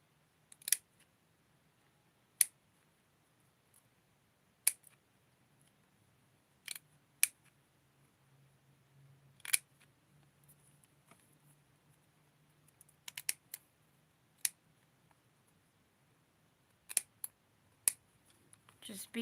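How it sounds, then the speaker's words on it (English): Sharp scissor snips cutting fabric for doll clothes sound one at a time at irregular intervals, quiet and close, with faint low hum in the background. "I'm just going happy wild with the scissors here."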